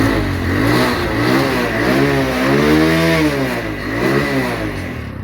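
A repaired motorcycle engine revs up and down repeatedly, its pitch rising and falling in several loud, close surges with no talk.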